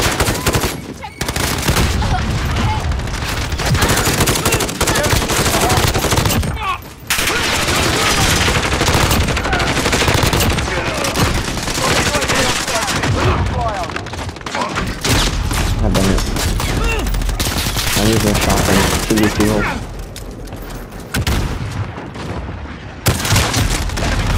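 An M2K Carbine fires in a multiplayer shooter video game, with dense, loud bursts of rapid gunfire and booms that go on almost without pause, broken by a few short gaps, while a player talks over the action.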